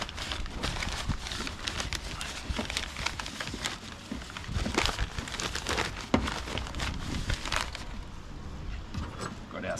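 Newspaper sheets crinkle and crumple in irregular bursts as they are pushed into a mesh pond pot while lining it for water lilies, close and fairly quiet, with no talk.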